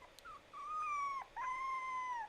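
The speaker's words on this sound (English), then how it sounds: "That's the best part of this whole video is that 2-second clip of the puppies." Puppies whimper in two long, high, wavering whines, the second following a short pause, soft and alone against faint background hiss.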